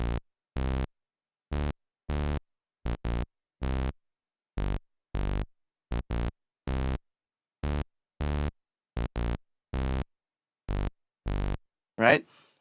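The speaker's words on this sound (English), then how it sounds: "giving a more gritty kind of vibe" Gritty synth part from the chorus of a soca beat, hard buzzy blocks of tone firing in an uneven syncopated pattern, loud and dry with a brief noisy burst at the end.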